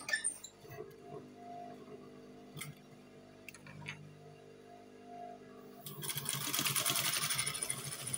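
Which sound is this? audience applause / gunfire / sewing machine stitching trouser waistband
sewing machine stitching trouser waistband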